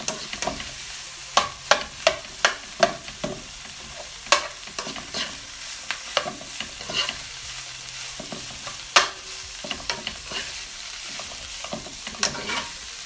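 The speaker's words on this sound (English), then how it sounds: "just mix that in together really, really well" Ackee and saltfish sizzling in an oiled pan while a utensil stirs it, sharp scraping knocks against the pan over a steady frying hiss, close and clear with no talking.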